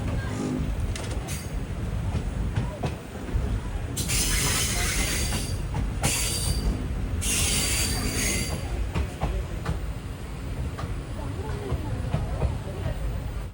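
Intercity Express train pulling into Tirunelveli Junction, a continuous rumble of wheels on rails with bursts of high metallic squealing as it slows, close to the platform, with voices faintly mixed in.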